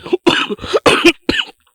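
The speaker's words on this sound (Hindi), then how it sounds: "खांसी है तो मत समझिए कोरोना हुआ है।" A man coughs repeatedly in several harsh, close bursts separated by brief pauses, loud and with no talk around them.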